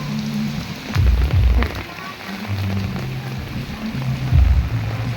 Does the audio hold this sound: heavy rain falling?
yes